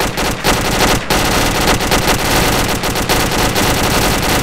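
Dense automatic gunfire in a military video game, with a submachine gun among rapid, continuous loud bursts that barely pause over several seconds.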